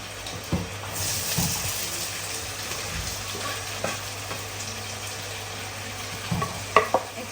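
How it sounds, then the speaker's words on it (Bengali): Cumin seeds tempering in hot oil for a pan of greens, with garlic and onion about to go in, crackle and sizzle steadily at close range, broken by a few scraping stirs and light clinks; nobody speaks. "তেল দিয়ে জিরা ফোড়ন দিয়েছি শাক ভাজি করার জন্য এখন এখানে যে রসুন আর পেঁয়াজ দিয়ে দিবো"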